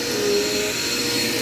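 A Dirt Devil Quick Power vacuum cleaner runs close by with a steady, loud motor whine and airy broadband rush throughout, no speech over it.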